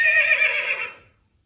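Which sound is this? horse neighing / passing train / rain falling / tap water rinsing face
horse neighing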